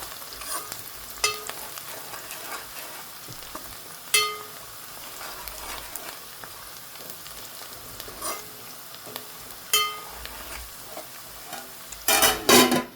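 Onions frying in a pan while a spoon stirs them, a steady sizzle broken by scraping and clinking strokes at irregular intervals, with a louder burst of clatter near the end.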